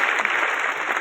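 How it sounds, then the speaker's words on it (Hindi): Steady applause from a crowd welcoming a minister at a university event, a dense even clatter of clapping hands with no pauses. "जोरदार तालियों के साथ स्वागत"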